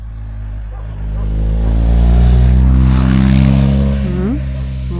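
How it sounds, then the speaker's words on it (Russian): A motorcycle pulls away on a steep mountain road at about 1725 metres, its engine rising in a loud, steady drone as it accelerates, with a brief pitch swoop near the end. "Мотоциклист поехал."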